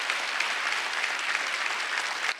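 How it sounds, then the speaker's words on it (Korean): A church congregation at a Sunday worship service claps loudly and vigorously, a dense, even wash of applause that holds steady before cutting off abruptly at the end. "박수 좀 세게 쳐보세요."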